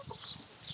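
Faint, soft clucking from chickens kept in a pen outdoors on a hot day, a few short low calls heard at a distance.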